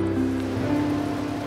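Steady rushing waterfall noise, continuous and fairly loud, blended with sustained soft music tones and no voices.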